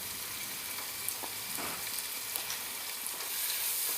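Finely chopped tomato fries in a pan for chicken pasta, a steady close sizzle with a few stirring scrapes, growing a little louder at the end.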